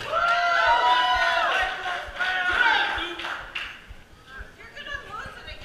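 Small wrestling event crowd cheering and yelling together in a loud, close burst that rises and fades, with a voice calling out over the noise.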